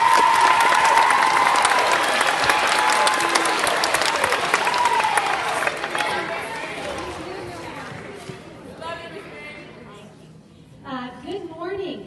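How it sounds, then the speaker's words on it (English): Sixth-grade awards day crowd applauding a teacher being honored, dense steady clapping with some cheering for several seconds that fades out, followed by a voice starting to talk. "Big round of applause for Miss Meek."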